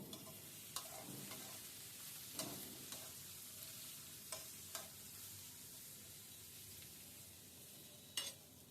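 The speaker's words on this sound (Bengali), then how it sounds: "এবার নেড়ে ছেড়ে ভাজিটা করে নেব" Bitter gourd being stir-fried in a pan with salt and turmeric: a low, steady sizzle with occasional sharp spatula scrapes and taps, fairly quiet and with no talking.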